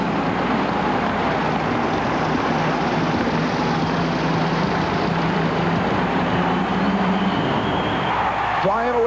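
A 6,000-horsepower pulling tractor roars at full throttle in a 1991 indoor arena pull at the New Orleans Superdome, a dense, loud, continuous engine drone held steady throughout with a voice commentating over it.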